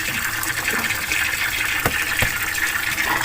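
Tap water pouring and splashing steadily while vegetables are washed at home, a continuous gushing flow with a few sharper splashes near the end.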